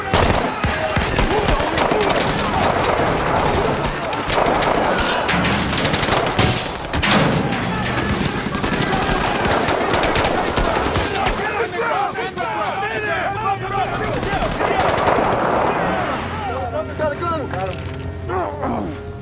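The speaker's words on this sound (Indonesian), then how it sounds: "tiba-tiba pasukan Kutcher datang menyergap menggunakan senjata lengkap" Heavy automatic gunfire during an ambush in an action film, with rapid bursts and mechanical clatter mixed with other loud movie sound, continuing almost without a break.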